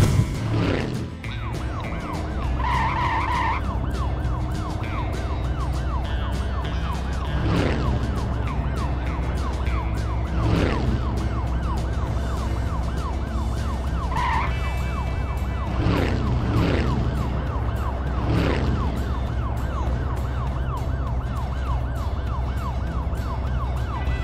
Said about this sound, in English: Scary police car.